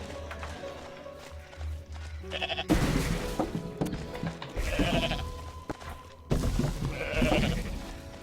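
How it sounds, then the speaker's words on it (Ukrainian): An angry goat in the Goat Simulator video game bleats loudly in repeated harsh bursts, set against busy, noisy game sounds. "А цей сердитий, бачите, козел"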